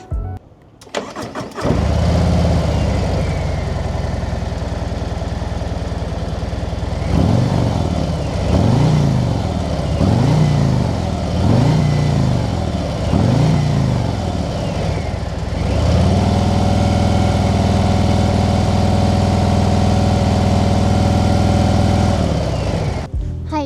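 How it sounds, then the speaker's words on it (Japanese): A 2026 Harley-Davidson Road Glide motorcycle engine cranks and fires, then settles into a loud, deep idle. A few rhythmic throttle blips rise and fall midway before the bike returns to a steady rumble. "それではエンジンをかけてみたいと思います。"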